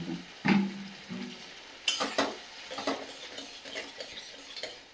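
Semolina (suji) stirred in ghee in a pan, with scattered scraping and tapping strokes of a spoon over a faint sizzle, a few sharper knocks standing out, close and fairly quiet.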